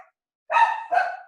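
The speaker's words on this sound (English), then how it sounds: "Excuse the dogs." Dogs give two quick, fairly close barks in a row after a short silence, with no talk over them.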